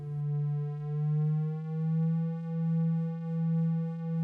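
A Pico-8 square-wave tone built from regular instruments holds one note and then slides slowly upward, pulsing softly in a steady wobble, alone and clear.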